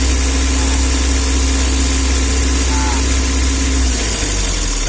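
Car engine idling with valves not yet seated, a loud steady drone with a constant low hum and even texture, running alone without pauses.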